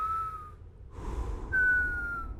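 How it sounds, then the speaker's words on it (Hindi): A man whistles to distract himself while craving a cigarette, two sustained clear tones separated by a brief breathy pause, close and fairly loud over a low background hum. "खुद का ध्यान भटकाने के लिए मैंने सीटी बजानी शुरू कर दी"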